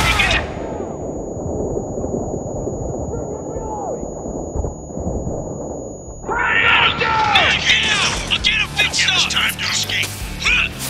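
Gunfire rattles through a combat firefight in the video game Spec Ops: The Line. The bursts grow denser and louder in the second half, with shouted voices mixed in throughout.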